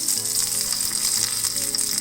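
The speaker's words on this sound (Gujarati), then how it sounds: "હું રાઈ ને મરચાંનો વઘાર કરીશ." Mustard seeds and chillies sizzle in hot oil for a chutney tempering, producing a loud, dense, crackling fry with rapid pops, heard close and alone.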